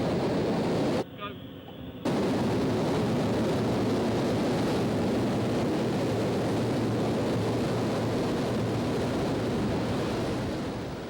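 The twin jet engines of the Thrust SSC land speed record car erupt after a brief quiet gap into a massive roar, holding steady at full power, loud and close, a thick wall of rumbling noise.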